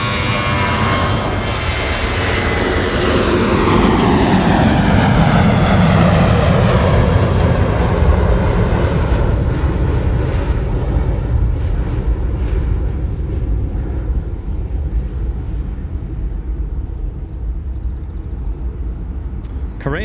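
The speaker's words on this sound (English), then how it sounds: "Here we go, Jetstar A320 rolling 34 right." A Jetstar Airbus A320 jet takes off on runway 34 right at Sydney Airport. Its engines build to a loud, broad roar that holds for about twenty seconds and then slowly fades as the aircraft climbs away.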